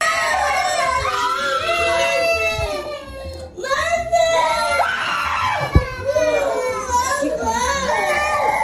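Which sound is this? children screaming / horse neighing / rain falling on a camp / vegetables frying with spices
children screaming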